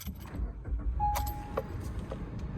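Key jangling and turning in the ignition of a 2024 Maruti Suzuki Swift VXi CNG base model, followed by the engine starting and settling into a quiet, low idle inside the cabin, with a short electronic chime.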